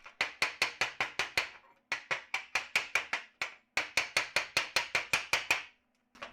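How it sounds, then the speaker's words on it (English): A chipping hammer knocks slag off a flux-core weld in three quick bursts of sharp metallic raps, each burst several evenly spaced close strikes with short pauses between. "So you'll need a chipping hammer."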